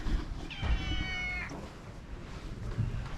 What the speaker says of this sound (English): He's such a little old man cat.